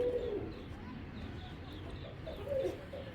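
Pigeons in a loft for sale, large heavy-bodied birds, give a few soft coos at the start and again near the end over a steady murmur of background noise.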